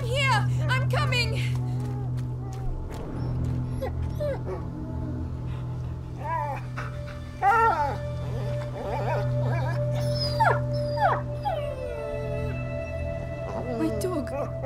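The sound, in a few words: dog whimpering and howling in A Plague Tale: Innocence video game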